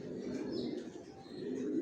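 Racing pigeons of Janssen line coo in a loft, low soft murmuring calls repeating over a quiet ambient hum.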